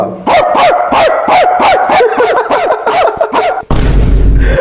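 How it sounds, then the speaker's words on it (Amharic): A dog barks in a rapid, loud series of sharp yips close by, about a dozen barks in quick rhythm, ending abruptly in a burst of noise. "ኧረ ባርክ ያደርጋል።"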